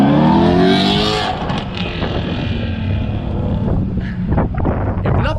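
A car roars past close by with a loud rising engine note and whooshing wind, then the sound fades into lower road and traffic noise.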